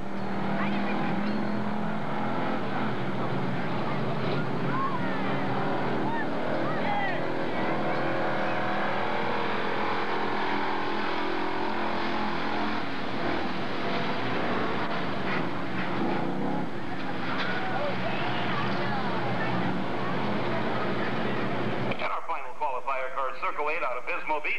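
A 1988 hobby stock race car at Santa Maria Speedway making a qualifying run, its engine droning continuously under steady announcer talk before cutting off abruptly near the end.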